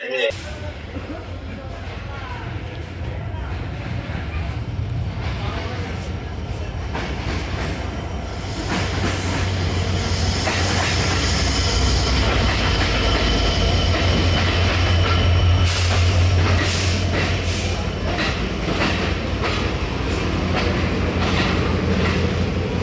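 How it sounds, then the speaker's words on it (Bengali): A train rolls into Santahar railway station with a deep continuous rumble and rattling clatter that swells louder partway through, while people talk faintly beneath the noise. "তো ট্রেন চলে আসবে"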